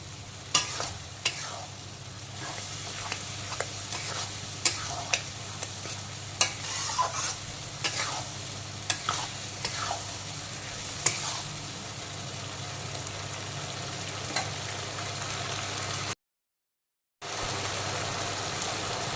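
Whole spices stir-fried in a pan for a spicy green jackfruit and potato curry with egg, with a steady crackling sizzle and frequent scraping stirs, close and continuous, with a brief silent break near the end.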